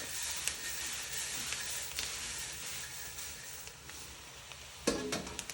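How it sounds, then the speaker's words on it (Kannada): Red poha, flattened rice, stirred in a pan with the stove just switched off, a soft continuous sizzle with scraping and rustling strokes and a louder clatter near the end. "ಇದಕ್ಕೆ ನಾನು ಸ್ವಲ್ಪನೇ ಅವಲಕ್ಕಿ ಹಾಕ್ಕೊಂಡು ತಿರುಗಿಸ್ಬೋದು."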